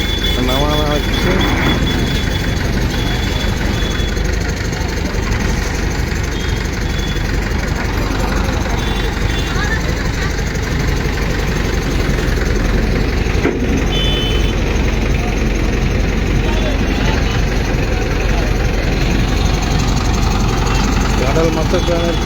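Heavy crane engines idle and run steadily in a continuous loud drone while a dredging vessel is unloaded from a vehicle by two cranes on a roadside by the Shilabati river, with voices talking underneath.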